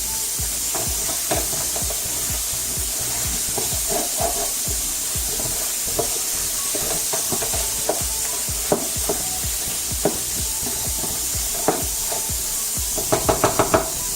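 Haitian beef stew bouillon simmers in a pot with a constant loud hiss and bubbling, dotted with small knocks and light clinks, and a burst of rapid taps near the end.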